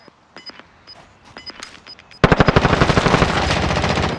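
Gunfire in a shooting video game: faint scattered shots and beeps at first, then a loud sustained automatic burst that rattles steadily to the end.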